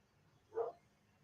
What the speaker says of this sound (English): Sorry for the barking, guys.